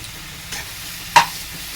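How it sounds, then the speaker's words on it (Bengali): Spices frying in a pan for a Bengali fish curry, stirred with a utensil: a low sizzle runs throughout, with one short scrape near the middle and a sharper, louder scrape and stir shortly after. "মশলাটা কষে গেছে, ভালো ভাজা হয়ে গেছে সব কিছু"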